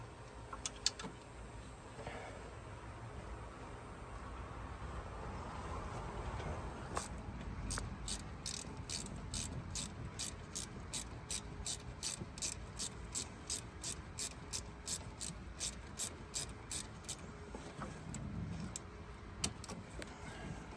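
A ratchet wrench works bolts loose on the TPI engine of a 1991 Camaro Z28, clicking quickly in a long, regular run of sharp ticks partway through, over faint background noise with no talk.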